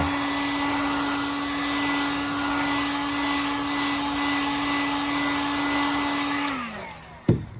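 Hot tub heater and pump running steadily with a continuous mechanical whir and hum, then winding down and stopping near the end with a brief clunk.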